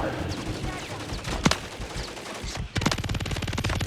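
Rapid bursts of automatic gunfire in a shooter video game, a single sharp shot then a loud sustained rattle of rounds near the listener, with a voice talking underneath.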